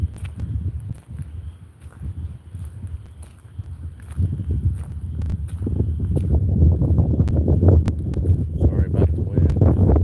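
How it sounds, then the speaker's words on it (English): Wind gusts outdoors in Alaska, a low rumbling buffet against the microphone that swells louder over the span, with faint rustling mixed in. "Sorry about the wind."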